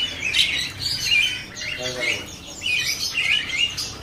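Mountain ciblek birds call at a busy bird market: repeated high chirps and tweets fill the stretch, close and fairly loud, over a steady murmur of market noise.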